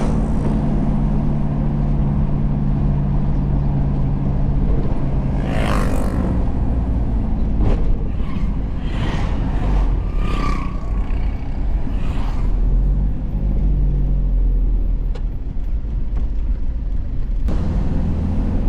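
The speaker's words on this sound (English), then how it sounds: "Going for a third gear pull here." Kia Pregio van engine pulling hard in third gear along an open road in India, a loud continuous drone with wind and road noise that rises steadily, no talking.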